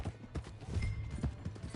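Horse hooves in Red Dead Redemption 2 clip-clop in a steady, quick rhythm of muffled thuds, fairly faint and close, over a low murmuring background.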